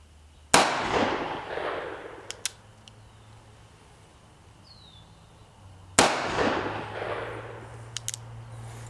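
Two sharp, loud shots from an Uberti 1862 .36 caliber police cap-and-ball revolver fired outdoors, spaced about five seconds apart, each with a ringing decay and a few faint clicks in between.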